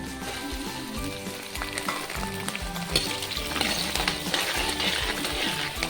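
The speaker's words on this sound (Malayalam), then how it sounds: "ചെറിയൊരു ഗോൾഡൻ കളർ പോലെയായി മണമെല്ലാം മാറിക്കിട്ട് നമുക്ക് പച്ചമുളക് ഇട്ട് കൊടുക്കാം" Green chillies hit hot sesame oil and sizzle loudly and continuously, with crackling pops and bubbling spatter close up, with no talking.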